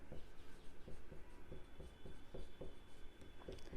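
Chalk or marker writing on a board during a class 9 algebra lesson on real numbers, with quick rhythmic strokes and taps repeating steadily, close and fairly quiet, with no talking.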